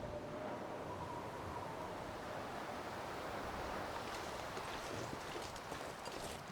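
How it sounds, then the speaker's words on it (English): Steady wind blows through a frozen wilderness in The Long Dark. It is a constant, faint rushing hiss with no breaks, like a low gale just short of a blizzard. "No, it's just windy."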